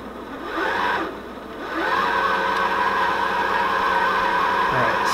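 A sewing machine winding a bobbin at slow speed, its motor whirring in a steady hum that pauses briefly, then resumes at a slightly higher, even pitch and runs on continuously.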